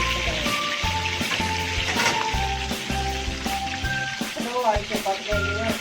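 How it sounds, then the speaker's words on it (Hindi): Lahori chargha chicken fries in hot oil, giving a continuous sizzle with crackling pops, while a voice talks steadily over it nearby. "ये 10 मिनट पकाएंगे हम इसको लाहौरी चरगे को"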